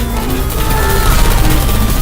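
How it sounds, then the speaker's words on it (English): Dense, continuous rattle of gunfire in Portal 2, loud and close, running steadily with no breaks and no talking. "I heard gunfire."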